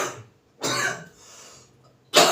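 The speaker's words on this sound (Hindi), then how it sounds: "आज थोड़ी खांसी भी ज़्यादा आ रही" A man with a cough during a chemistry lesson lets out a harsh cough, then a softer throat-clearing rasp, then another sharp cough, all close and loud in a quiet room.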